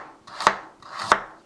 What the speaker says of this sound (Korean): 당근은 조금 얇게 썰어줄게요.